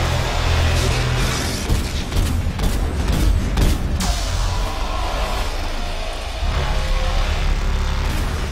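Grenade blasts in the Mass Effect 3 video game, set on Earth: heavy low booms rumble through a loud, dense battle din of gunfire and mechanical noise, with several burst-like impacts in the first half.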